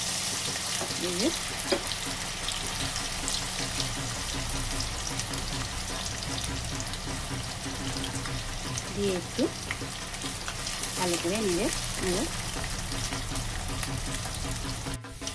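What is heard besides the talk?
onions with cornflour frying in hot oil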